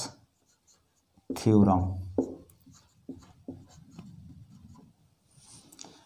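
A pen scratches on paper while someone writes out a geometry proof, a faint intermittent rubbing with short pauses, partly under a man's speech.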